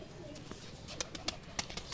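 A pigeon coos softly in a few short, low pulses against quiet background noise.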